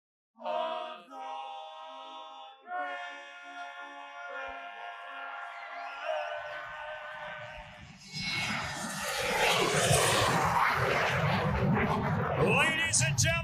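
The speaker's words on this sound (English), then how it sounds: "Thanks to our friends at Lockheed Martin, home of the F-35, the world's most advanced fighter jet." A Lockheed Martin F-35 fighter jet flies over a Fort Worth rodeo arena. It follows the tail end of a sung anthem, a low rumble swelling into a loud, sustained broadband roar that blends with crowd noise.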